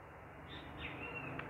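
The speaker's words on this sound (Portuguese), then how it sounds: "Ah, o passarinho. É que tem uma árvore aqui do lado." A small bird sings faintly from a tree just outside, a brief thin whistled phrase rising over quiet room tone.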